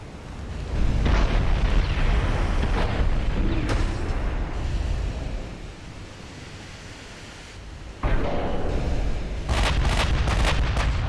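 Heavy 14-inch naval guns fire in the Ultimate Admiral Dreadnoughts naval battle, giving loud booming salvos with rolling, surf-like rumble between them and a fresh heavy blast partway through, with no talk.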